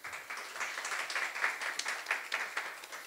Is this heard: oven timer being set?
no